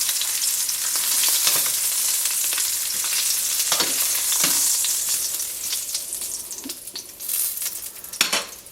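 Beef short ribs sear in a hot pan with a loud, continuous hiss and crackle, while a few tong or utensil knocks and scrapes rise near the end, close up and with nobody speaking.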